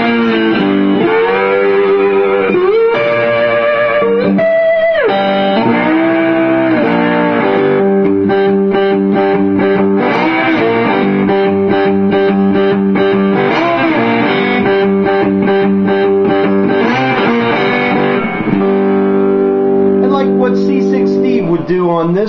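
A twangy, cranked-up distorted three-string cigar box guitar plays a simple repeating riff, loud and close, with sustained notes and choppy strummed bursts throughout.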